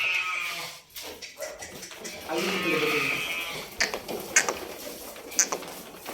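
Bandur sheep bleating at close range in a livestock setting, several wavering calls overlapping with people talking, followed by brief sharp bleats.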